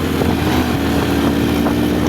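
A motorcycle engine climbing uphill in first gear, droning loudly and steadily up close, its low rumble straining under load for a couple of seconds.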